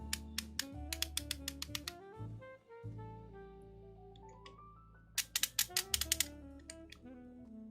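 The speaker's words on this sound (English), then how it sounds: "This is a very hard clicking aperture." The aperture ring of a Leica R camera lens clicks in two quick bursts of firm, close detents, separated by a quieter stretch, over a soft background tone.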